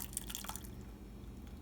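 Heavy whipping cream poured from a cup into a pot on low heat, giving a faint, soft liquid dribble with a few brief drips at the start before settling into a quiet, steady trickle.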